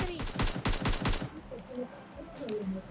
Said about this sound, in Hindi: तो यहाँ पर अब बंदे फायरिंग कर देते हैं